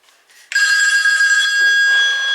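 A telephone bell rings loudly and steadily, a continuous bright electronic trill that starts abruptly and sustains to the end, with only faint room noise before it.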